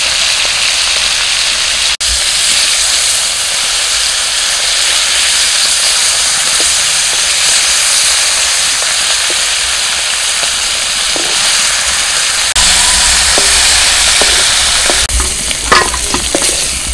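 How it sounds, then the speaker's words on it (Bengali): Salted hilsa fish pieces fry in hot oil, producing a loud, continuous close sizzle and hiss with occasional spatter and scraping clicks, growing busier toward the end; no voices. "প্রথমে নোনা ইলিশগুলো ভেজে নিচ্ছি।"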